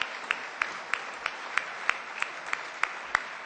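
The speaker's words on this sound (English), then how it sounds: "That deserves a round of applause" A room of guests at a New Jersey Chamber of Commerce centennial party gives a round of applause, a steady distant wash of clapping marked by evenly spaced sharp claps.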